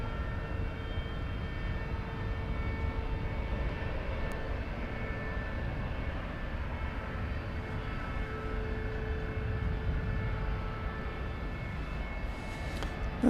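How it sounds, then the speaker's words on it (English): A Boeing 777 freighter departing from DFW, a steady broad engine roar with faint tonal whine held at a distance for over ten seconds, no talk. "777 freighter on its way across the ocean."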